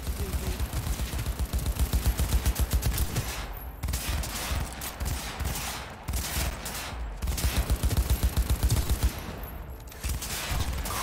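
Sustained gunfire from Cyberpunk 2077 rattles in fast, evenly spaced rounds, loud and continuous with brief pauses between bursts and no voices.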